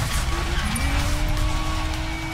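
Car drifting in Need for Speed Payback, a continuous loud roar of engine and tire noise with a steady, dense rumble throughout.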